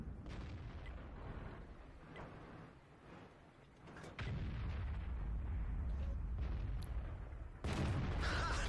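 Tank cannon and artillery fire in a World of Tanks battle: a continuous low rumble of combat, broken by two heavy, booming shots that stay loud afterward.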